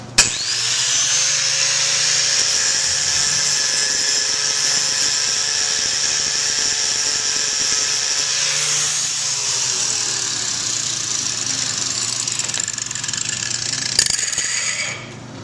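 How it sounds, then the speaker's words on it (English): A power grinder with an abrasive stone grinds a very hard ceramic composite wear coating. The motor whines loudly at a steady pitch, the pitch shifts partway through, and the grinding ends with a short clatter. No speech is heard. "So I'll grind on here so you can see how this works compared with this and the ceramic."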